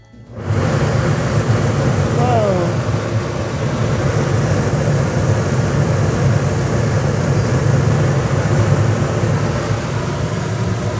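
A newly installed Rec Pro Houghton quiet rooftop air conditioner on a Bigfoot 25RQ RV kicks on after a brief silence and runs with a steady, loud whooshing rumble and low hum that continues throughout.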